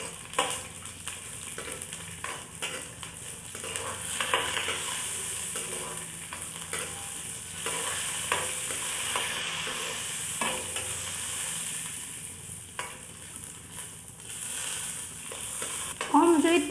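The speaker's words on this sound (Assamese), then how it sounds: "অলপ সময় ভাজি ল'ম" Cashews and almonds fry in ghee in a kadai over a low flame, giving a steady, close sizzle with frequent scraping and stirring clicks throughout and no voices.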